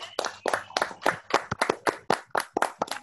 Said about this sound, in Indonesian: Bisa beri aplaus dulu buat Kakak Apoteker Eti.